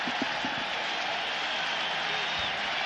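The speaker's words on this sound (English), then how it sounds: "That sold out, as it's been so much in the recent years here at Riverfront Stadium, but a very enthusiastic crowd" A sold-out crowd at Riverfront Stadium roars for the kickoff of a 1995 Jaguars–Bengals football game, a dense, steady wash of cheering and applause throughout.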